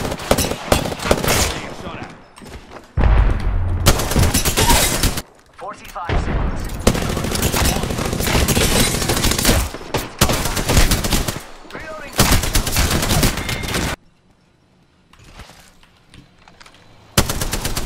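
Bursts of rapid automatic gunfire from a Spitfire light machine gun in Apex Legends, loud and close, coming in several sustained volleys separated by brief pauses, with game voice callouts in between.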